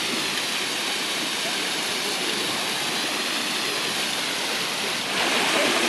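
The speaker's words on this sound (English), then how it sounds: "The water passes below it as opposed to above it." Steady broadband rush of water flowing beneath an undershot water wheel at a mill, a continuous loud wash with no breaks that swells slightly near the end.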